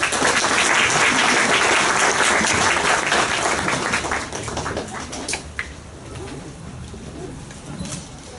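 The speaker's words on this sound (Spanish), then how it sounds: "Fuertes aplausos, por favor." Applause at a law faculty conference, a dense clatter of clapping from a large audience that fills the room loudly, then gradually thins and fades toward the end.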